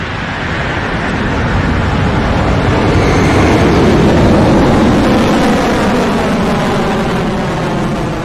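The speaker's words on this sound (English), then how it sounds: "The pumps are electric, so it doesn't take time to spool up like a regular rocket" Electric-pump rocket engines roar at liftoff, a loud, sustained broadband rumble that swells and holds steady for several seconds with no voices over it.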